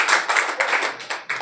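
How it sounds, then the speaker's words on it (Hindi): An audience claps to welcome two singers onto a stage, a short burst of dense, moderately loud hand claps rising and falling over little more than a second, with no talk over it. "जोरदार ताली से स्वागत कीजिए इन दोनों"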